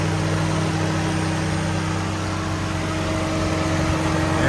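A 2004 Infiniti G35X engine idles after a drive belt and tensioner replacement, a steady close mechanical hum with smooth even tones and no squeal, unchanged throughout and without talking.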